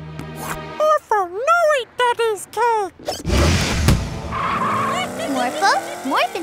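A cartoon race car skids with loud, sharp tire squeals and engine noise, mixed with lively chattering character voices and squeaky cartoon vocal sounds.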